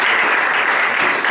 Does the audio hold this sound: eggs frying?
no